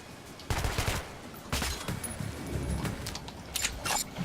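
Gunfire in the Metro Last Light video game comes as a string of sharp shots in short bursts, fairly close, with brief gaps between volleys over faint background noise.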